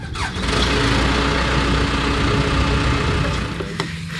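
A farm irrigation pivot's engine, started with an ignition key, settles into a loud, steady idle for several seconds before the rumble tapers off.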